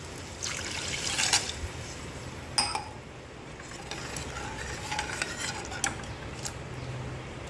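A metal spoon scrapes and clinks against a pot in irregular strokes while water added to sizzling spices for Gujarati khichdi stirs and bubbles softly beneath.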